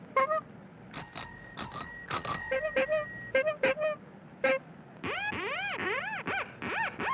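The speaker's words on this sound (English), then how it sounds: "A bell or horn that is loud enough to be heard." A bicycle bell rings in several quick dings and trills, mixed with honking horn-like tones and squeaky toots later on, all close and bright.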